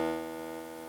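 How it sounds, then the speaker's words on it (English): A eurorack Even VCO oscillator outputs a steady, harmonically rich sustained tone, buzzy and even, held for about a second with a slight fade, with no voices. "take the output of the even VCO, which sounds like this right now"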